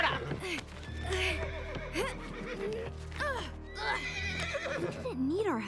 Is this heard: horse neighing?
yes